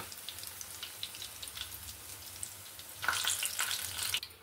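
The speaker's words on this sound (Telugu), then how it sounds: "చేప ముక్కలు అనేవి మంచి క్రిస్పీగా వేగిపోయాయండి" Fish pieces frying crisp in hot oil, a steady soft sizzle and crackle that swells louder and busier toward the end, with no talking.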